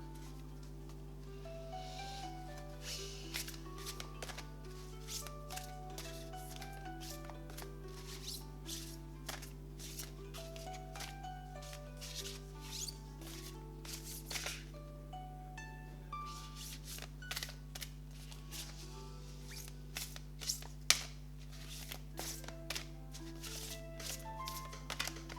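Tarot cards from a Solitary Witch deck shuffle close by in a long, steady run of soft riffling and slapping bursts over a low constant hum.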